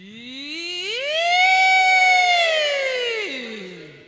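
Voices imitate a siren together, sliding upward, holding a long wavering tone, then dropping back down as the sound swells and fades.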